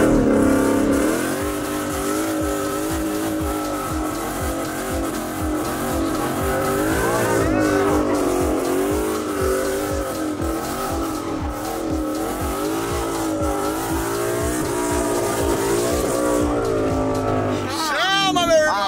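Mustang car drifting in a Lamborghini drift session, engine revving steadily with tires sliding and squealing throughout, loud and close, with people talking excitedly over it.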